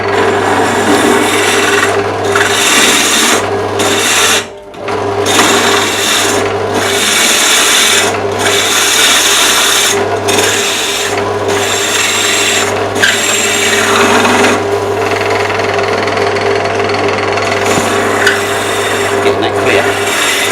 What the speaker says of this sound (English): this drill bit will probably want to bind a little as we